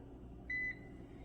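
An air fryer gives a single clear electronic beep, about a quarter second long, as it starts. The beep stands alone over a low steady hum in a quiet kitchen.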